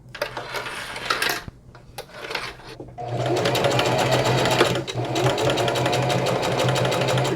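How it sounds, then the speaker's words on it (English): A sewing machine stitches the top of a denim bucket hat onto its band. It starts in short bursts with pauses, then runs in a steady, fast, close rattle for several seconds. "Now I have to sew the top onto the band"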